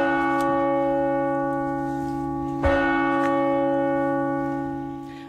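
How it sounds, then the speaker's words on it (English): Angelus church bells broadcast on Irish radio, a steady sustained ringing with long overlapping resonant tones and one brief stronger strike midway, heard alone and close. "That's the Angelus bells on RTE"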